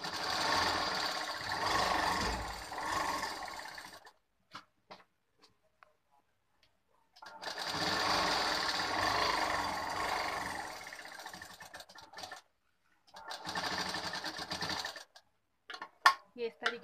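Sewing machine stitching a blouse seam, running in three rapid mechanical bursts separated by pauses with faint handling clicks between, close by and moderately loud.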